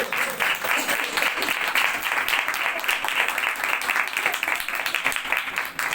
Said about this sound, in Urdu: اے زوردار تالیاں خدا کے کلام کی باتیں زوردار